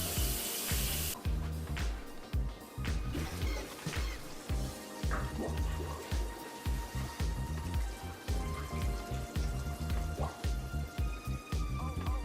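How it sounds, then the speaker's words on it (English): Tap water runs steadily from a kitchen sink faucet, a close, continuous splashing with clattering knocks and thuds over it, and no talking. "Just turn the water on."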